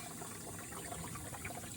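Water flowing from a tap into a sink makes a faint, steady rushing and trickling sound with no pauses, alone and without talk.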